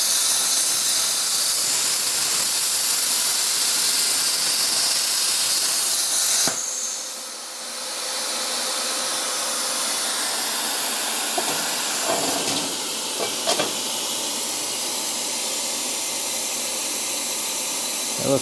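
A Harbor Freight Titanium plasma cutter mounted on an Arc Droid cuts metal with a loud, steady, high hiss that drops off suddenly partway through, then resumes at a slightly lower level.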